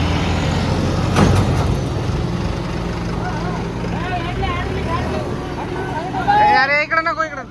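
A heavy vehicle engine labours while being driven out of a freshly dug pit on a rough site, a steady low rumble under people talking and calling out, ending in louder revving.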